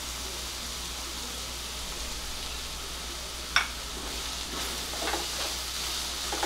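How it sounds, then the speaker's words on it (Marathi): Onion and fresh grated coconut sautéing in a pan for a cabbage and pea dish, a steady soft sizzle with a few faint stirring scrapes and clicks. "आता आपल्याला कांद्याबरोबरच नारळ पण परतून घ्यायचा आहे।"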